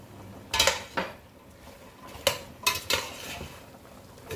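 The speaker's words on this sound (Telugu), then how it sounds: "బాగా ఒకసారి కలిపేసాము." A spoon stirs potatoes, carrots, cauliflower, beans, green peas and corn in a single pot for veg biryani, with several clanking scrapes against the metal at irregular intervals, close and loud, no talking.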